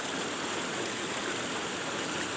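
Water flowing steadily along an irrigation channel beside rice paddies, tainted white by runoff from a tofu factory upstream, making a continuous broad rushing sound with no pauses.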